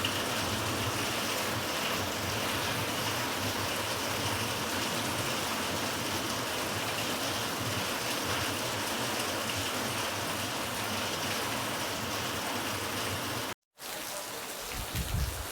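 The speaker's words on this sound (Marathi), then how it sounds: "परत जोर वाढला अजून पावसाचा" Heavy rain pours down in a dense, constant hiss that stays loud and even throughout, cutting off abruptly near the end.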